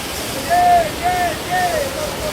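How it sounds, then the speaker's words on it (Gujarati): A mountain waterfall on the Kedarnath trek pours in a steady broad rush of water, close and continuous, with a faint repeating whine riding over it. "હવે જુઓ, આ મસ્ત ઝરણું પડી રહ્યું છે."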